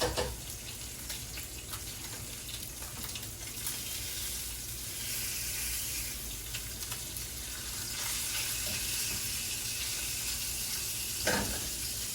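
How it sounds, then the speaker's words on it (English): Fish frying in olive oil for pasta con le sarde, a steady bright sizzle and crackle that holds evenly throughout, close and fairly quiet. "Let that fish cook nice."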